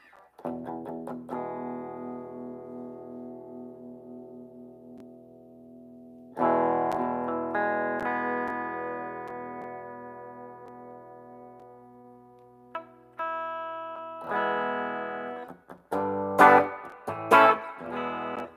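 Electric guitar chords ring out through an amplifier with a distorted, effected tone, sustained notes decaying between strums, followed by a few sharper picked bursts.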